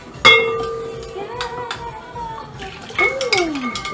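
Liquid yeast poured into a mixing bowl for homemade sweet rolls, a bright clink of a container against the bowl followed by a soft trickle and splash, then more clinks as the pour finishes.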